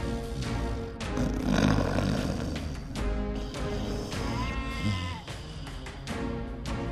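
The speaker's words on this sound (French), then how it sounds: "Comment la chèvre a pleuré pour ses pauvres enfants." A goat bleats in a wavering, crying call, several drawn-out bleats in succession that are close and fairly loud, with nobody speaking over them.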